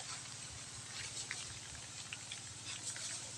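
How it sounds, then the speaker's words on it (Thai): Rain falling outdoors among trees, a steady soft patter with scattered faint drops and a low background hum throughout. "โอ้ย ฝนตก"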